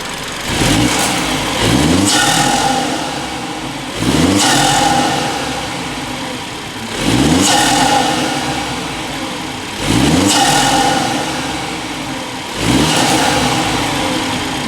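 A 2017 BMW F30 330i with the B48 engine and BMS intake is revved in comfort mode, five or six short rising blips spaced a couple of seconds apart, each dropping back to a steady idle.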